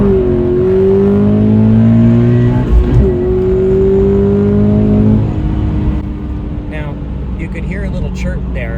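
A 2020 Subaru BRZ Sport-tech RS accelerates hard from a standstill to 60 mph, its engine note climbing steadily through the gears with brief dips at each shift, loud and close, with a voice talking over it near the end.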